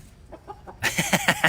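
Chickens clucking close by in short, repeated bursts, quieter at first, then louder and more agitated.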